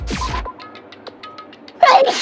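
A single sharp sneeze from someone nearby, loud and abrupt against a quiet room, ending quickly before a short burst of speech-like sound follows.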